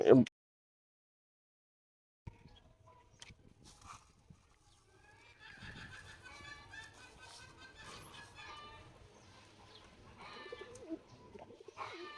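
Pigeons cooing softly while being fed, with a loud burst at the start, a brief silence, then faint, scattered coos and rustling that build gently toward the end.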